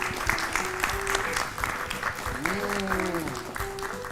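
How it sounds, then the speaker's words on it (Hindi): Studio audience applause for a correct answer on a children's quiz show, a steady dense wash of clapping lasting throughout, with a voice speaking over it. "हो जाए जोरदार तालियां"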